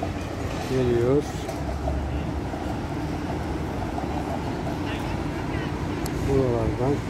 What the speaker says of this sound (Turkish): Tramvaylar